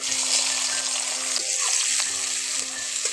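Chopped onion hitting hot oil already tempered with cloves and cinnamon sizzles and fries steadily for a chicken curry, a dense, loud crackle running throughout with faint stirring scrapes.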